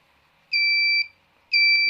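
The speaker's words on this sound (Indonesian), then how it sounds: "Ketika LED 1 dan buzzer menyala pelan, itu tandanya ring jarak menjadi dekat." Buzzer on a distance sensor sounding as an object moves closer, two loud, pure electronic beeps about half a second long with a short gap between them, alone and near.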